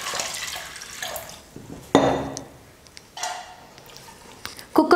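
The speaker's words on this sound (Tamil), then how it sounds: "இப்போ இது கூட தேவையான அளவுக்கு தண்ணி சேர்த்துடுறேன்." Water pours and splashes into a metal pressure cooker for sambar in several separate bursts, with a few clinks in between and a louder splash at the end.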